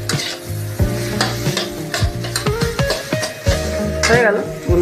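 Food frying in a pan is stirred for a semolina sweet, repeated scraping strokes over a steady sizzle with clattering spoon hits, close and fairly loud, while music plays throughout.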